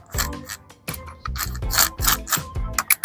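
A drill fitted with a multi-depth bit bores a screw hole, giving several short, loud grinding bursts separated by brief pauses, close up and without speech.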